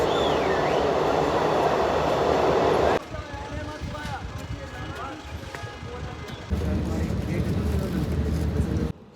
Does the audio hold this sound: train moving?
yes